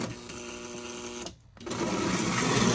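Lionel toy train E-unit motor running on a bench test, uncleaned armature, a steady buzzing mechanical whir with a brief dropout midway before resuming, close and moderately loud.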